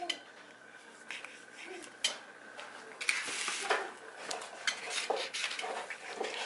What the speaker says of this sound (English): So my mom's chopping it up now because she's going to fry them.